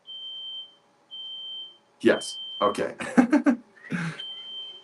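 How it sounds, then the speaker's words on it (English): A house smoke alarm emitting two long, high steady beeps near the start, then sounding intermittently while people speak over it. "Uh-oh, we got the smoke alarm going off."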